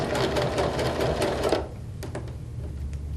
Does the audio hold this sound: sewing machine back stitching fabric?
yes